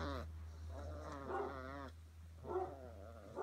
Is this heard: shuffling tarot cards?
no